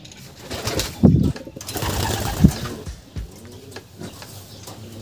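Pigeons at a Filipino breeding loft, including a six-year-old breeding bird, give low murmuring coos with two louder bursts, likely brief wing flaps, over steady close background noise.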